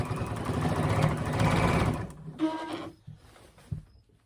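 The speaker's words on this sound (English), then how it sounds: "I'm going to continue sewing at 1/4 inch" A sewing machine stitches quilt binding at a quarter-inch seam, running in a steady mechanical whir for about two seconds, then stopping, followed by a few soft handling clicks and shuffles of fabric.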